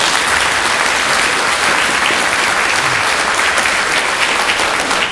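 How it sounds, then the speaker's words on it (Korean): Dense, loud applause from a ceremony audience welcoming guests at a university entrance ceremony, sustained evenly from start to finish with no voices over it. "한 분 한 분 소개할 때마다 큰 박수로 맞이해주시기 바랍니다."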